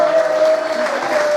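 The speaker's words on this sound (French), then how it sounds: "Merci d'applaudir Karine Gutiérrez, s'il vous plaît." A burst of applause from a crowd at a poker camp closing ceremony, steady clapping over a short stretch with a faint tone running beneath it.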